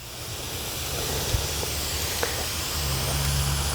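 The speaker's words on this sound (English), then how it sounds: "now we can take the hose and we'll spray a little water around it" A garden hose sprays water around an extinguished campfire ring outdoors, a steady broad hiss of spray that holds even and close for the whole stretch, with a couple of small knocks.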